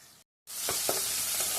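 Chopped onions and green chillies fry in a hot pan with a steady, bright sizzle that starts after a brief silence, with a few soft stirring scrapes over the constant hiss.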